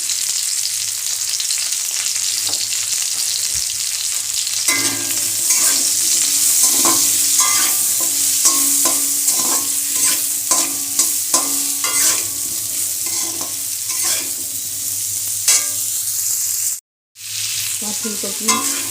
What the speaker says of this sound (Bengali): আমার ফুলকপিটা ভাজা হয়ে গেছে,